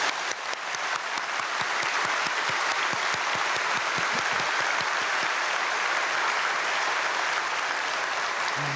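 A church congregation gives the pastor a long round of applause at an early-morning prayer service, sustained and even throughout, with a few sharper individual claps standing out at the start.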